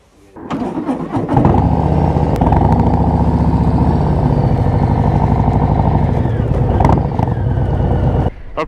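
A Harley-Davidson Lowrider ST 117 motorcycle rumbles steadily and loudly up close while being ridden, a deep, continuous engine drone that holds for several seconds before cutting off near the end.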